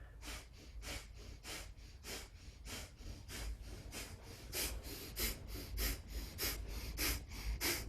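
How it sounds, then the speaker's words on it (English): Rapid, rhythmic breath of fire from a Kundalini yoga practitioner, a steady run of about twenty sharp, even nasal exhales at close range, alone with no talk. "And we come to breath of fire."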